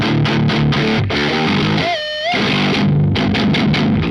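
Electric guitar through a Rat distortion pedal, heavily overdriven and near fuzz, playing chugging rhythmic chords with a brief sustained bending note midway, loud and close, with no voices.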